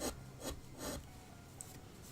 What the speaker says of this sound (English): you're watching me carve with really sharp chisels